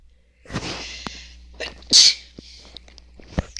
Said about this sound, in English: I've been sneezing all day